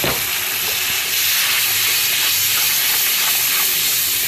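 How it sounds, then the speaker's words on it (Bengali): Masala spices with coriander powder fry in a pan, giving a loud, continuous close-up hiss and sizzle with faint stirring underneath and no speech. "এতিয়া এইখিনি মই ভালকৈ ভাজি ল'ম"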